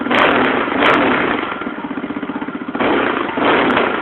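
A potent quad bike engine revs hard in short throttle blips, loud and close, with a rapid idling putter between bursts and no talking.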